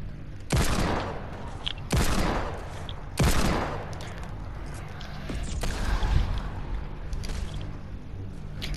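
Loud bursts of video game gunfire in a few separated volleys, each a sharp crack followed by a decaying rumble, with steady game background noise between and no speech over it.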